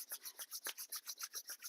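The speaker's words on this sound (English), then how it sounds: "Now rub your hands" Palms rubbing briskly together during a yoga class, about a dozen even back-and-forth strokes in a steady rhythm, close and soft with a dry rasping texture, no talking.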